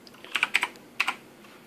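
Typing on a Razer computer keyboard: a quick burst of about seven crisp key clicks, close and clear, then quiet.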